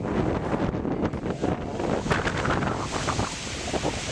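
Gusty wind from a gust front ahead of a thunderstorm in Idaho roars and buffets the microphone loudly and continuously, with surging rushes and no other sounds standing out.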